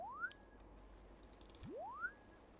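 A short synth sound in Logic Pro, reversed with a speed-up then slow-down fade, sweeps upward in pitch and settles on a held tone. It plays twice, quietly, with faint clicks between the passes.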